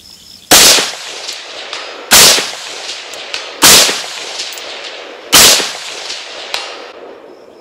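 A rifle fired at a distant target at about 300 yards: four loud, sharp shots spaced roughly a second and a half apart, each followed by a ringing echo tail outdoors.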